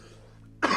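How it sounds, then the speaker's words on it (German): A single sharp human cough bursts out near the end, loud and close after a stretch of near silence, from someone with a cold while playing For Honor. "Entschuldigung, Husten."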